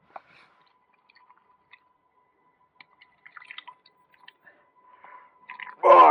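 Quiet, scattered plastic crinkles and creaks from a filter water bottle, ending in a louder squishing crunch as the bottle is squeezed hard.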